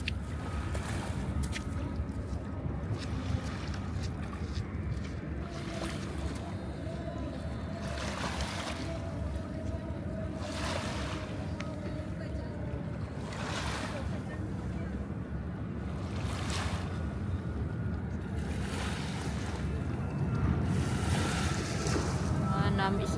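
Seaside waves wash and break repeatedly in a steady rhythm, with surges every few seconds over a constant roar of water and some wind noise on the microphone. Faint voices talk now and then in the background.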